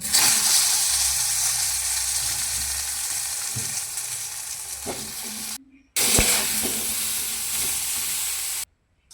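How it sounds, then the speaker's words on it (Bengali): Pointed gourd pieces fry in a pan with a bright, close sizzling hiss and occasional stirring clicks, cut briefly by a short silent break. "আগে পটলগুলোকে ভেজে নেব।"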